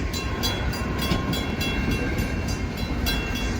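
A CSX L301 freight train rolls past in the rain, with a continuous loud rumble and regular clicking of wheels over rail joints, and no voices.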